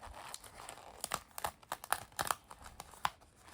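A pre-cut sticker sheet from a diamond painting kit is handled and peeled close up, giving quick crinkly paper rustles and short tearing peels in an irregular run.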